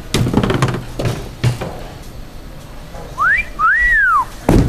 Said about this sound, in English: I like being whistled at.